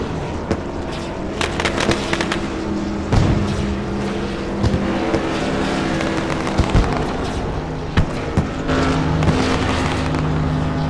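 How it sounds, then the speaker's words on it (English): A CRA modified race car roars through a burnout in turn 4 at Southern National Motorsports Park, its engine loud and sustained, punctuated by sharp backfire-like pops and crackles scattered throughout. "Peterson with the burnout there in turn 4."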